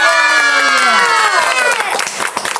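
Guests at a sangeet ceremony erupt in loud, close whooping and cheering, shrill voices sliding together before scattered clapping breaks through at the end.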